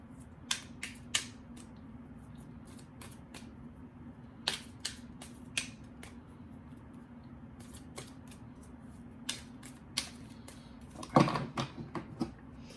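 Sharp, sparse slaps and flicks of tarot cards scattered across a quiet room, with a louder flurry of shuffling near the end over a faint hum.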